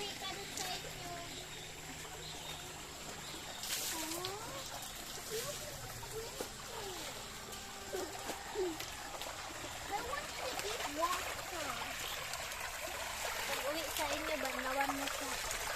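A creek flows with a soft, continuous trickle and babble, moderately near, while children and adults talk over it throughout.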